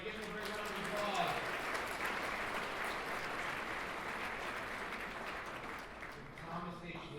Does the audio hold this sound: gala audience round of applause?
yes